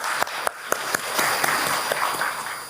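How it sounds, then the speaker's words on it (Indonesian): Crowd applause at an Indonesian national crafts council (Dekranas) event, a steady wash of clapping with a few sharper individual claps standing out, fairly close. "Boleh tepuk tangannya untuk Dekranas Indonesia."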